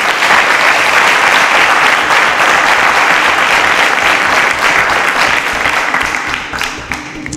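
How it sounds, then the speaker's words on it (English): Loud, sustained studio audience applause for a quiz contestant on a competition show, dense clapping filling over seven seconds before easing slightly at the end. "A round of applause for Donald"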